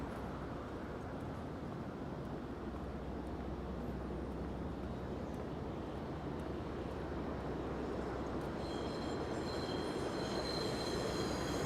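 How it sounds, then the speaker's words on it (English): An N subway train bound for Manhattan rumbles past in Queens with a loud, continuous roar. Near the end, high metallic wheel squeals rise above the rumble. "That's an N train going to Manhattan."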